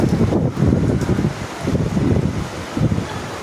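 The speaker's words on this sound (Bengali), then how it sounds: "এত সুন্দর এক ঠান্ডা হাওয়া গায়ে লাগছে" Cool wind on a rainy day buffets the microphone in rumbling gusts that swell and ease several times, loud and close, with no talking.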